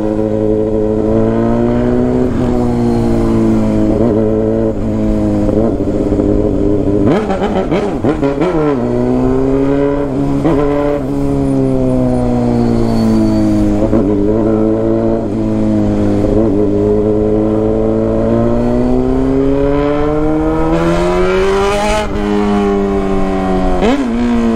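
A Honda Hornet motorcycle in city traffic, its engine droning loud and close with steady harmonic tones that rise and fall as the throttle is revved and eased, plus brief bursts of acceleration.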